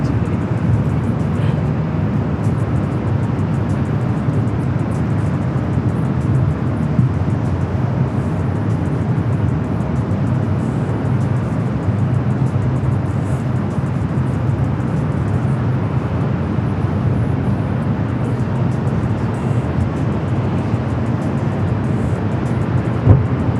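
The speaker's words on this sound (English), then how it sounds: "Atlas Air 747-400 freighter heading over to 25 right for takeoff." Atlas Air Boeing 747-400 freighter taxiing toward the runway at LAX, a steady low jet-engine rumble and whine held at an even level throughout, heard from a distance with no talking.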